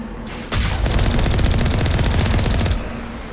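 Turrets in Mass Effect 1 pour out a sustained, loud burst of rapid automatic fire lasting about two seconds, a dense even rattle that cuts off abruptly with no voices.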